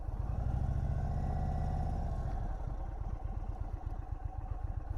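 A motorcycle engine idles close by with a steady low throb, a rough rhythmic chugging continuing throughout with no talk over it.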